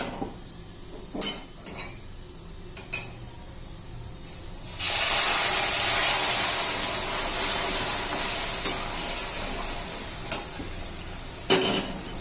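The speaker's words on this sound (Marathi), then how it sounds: "आता आपण त्यामध्ये पाक घालून घेऊ." Sugar syrup poured into roasted semolina for rava barfi sets off a sudden loud, steady sizzling hiss partway through, preceded by a few clinks of utensils and punctuated by occasional metallic taps.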